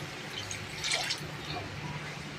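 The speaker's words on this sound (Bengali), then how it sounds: "এবার আমি এর মধ্যে জল দিয়ে দেবো" Water pours into a tilapia fish curry with potatoes, giving one brief, soft splash against a quiet background.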